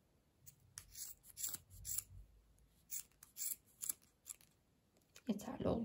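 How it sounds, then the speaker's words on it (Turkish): Scissors snip through crochet yarn in a run of separate crisp cuts, quiet and close, with a soft rustle of thread at the end. "Şöyle hizadan düzgünce kesiyorum."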